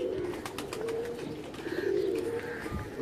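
Pigeons coo steadily from a rooftop loft in Lahore, a low throaty burbling that swells and falls for a few seconds at close range with no talk.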